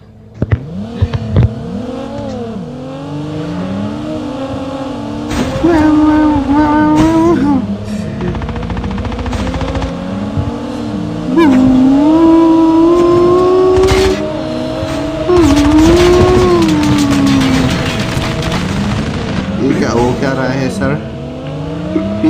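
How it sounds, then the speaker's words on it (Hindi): Race car engines in the COD Mobile video game rev and accelerate repeatedly, rising and falling in pitch with occasional tire squeal, loud and close, while people talk over them throughout. "देखो सीन्स दिखाता हूँ तुम्हें प्रॉपर कार रेस के"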